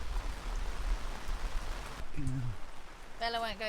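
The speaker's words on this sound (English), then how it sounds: "it's raining" Rain falling on a sailboat, a steady hiss of drops on deck and cabin, fairly close and even throughout, with brief voices and a short tonal squeak surfacing near the end.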